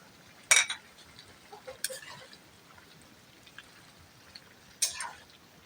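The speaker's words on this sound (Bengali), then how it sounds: "নেড়ে চেড়ে সব কিছু মিশিয়ে নেব" Sparse metal clinks of a spoon against a cooking pot while potatoes are stirred into pigeon meat curry: three or four faint, brief scrapes and taps separated by quiet gaps.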